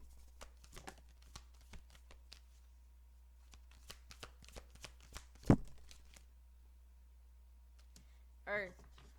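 Tarot cards being shuffled and drawn give soft, scattered clicks and light slaps, with one sharper snap midway, all fairly faint over a low background hum, and a brief voice-like sound near the end.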